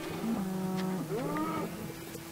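A cow lows in a farming video game, one drawn-out moo with a rising, wavering pitch, clear and close over a soft background hum.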